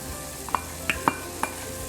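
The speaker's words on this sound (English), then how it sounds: "I'm adding my corn." Canned corn stirred in a hot pan over medium-high heat, with a soft steady sizzle broken by four distinct scraping knocks of a utensil against the pan, no talking.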